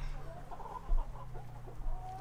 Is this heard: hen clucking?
yes